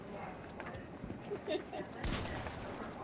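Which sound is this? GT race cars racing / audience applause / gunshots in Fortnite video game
gunshots in Fortnite video game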